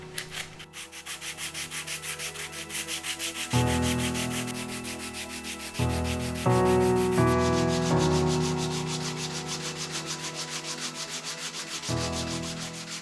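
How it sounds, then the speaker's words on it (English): A 120 grit pad rubs back car body filler on a Firebird build in steady rhythmic back-and-forth strokes, close and loud, with a harsh droning tone that shifts partway through. "I'm just going to very quickly give this a flash over with a 120 pad, so it's quite rough"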